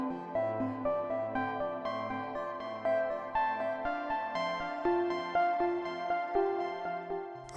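A randomized note sequence from a synth patch built in VCV Rack, a steady stream of plucky, bell-like tones stepping through changing pitches in a regular rhythm, clear and alone with no talking.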